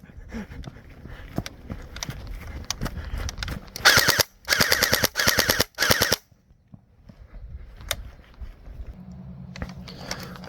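A YAGEE DGR-LEI gel blaster fires rapid bursts of sharp, loud cracks in several quick groups, with quieter clicks and handling noise before and after.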